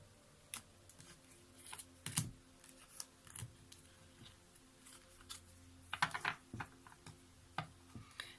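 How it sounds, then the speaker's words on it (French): Lenormand cards slide and tap against each other as they are mixed by hand without riffling, giving soft, irregular clicks and brushes with a few sharper snaps, close and quiet. "je mélange ici le Lenormand sans le brasser"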